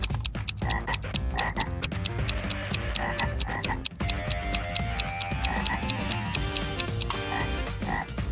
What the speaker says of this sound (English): A frog is at the bottom of a well.